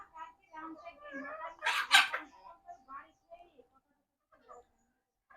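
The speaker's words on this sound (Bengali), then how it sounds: "এখন আছে ছয়টা মুরগি আর একটা মোরগ" A backyard flock of six hens and one rooster, clucking in short scattered calls with one loud harsh squawk near the middle, close by and mixed with occasional faint talk.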